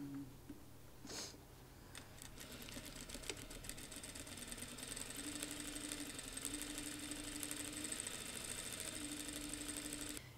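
An industrial sewing machine stitching fabric seams, running in a steady rapid whir with a mechanical hum that grows slightly louder partway through, heard close and alone.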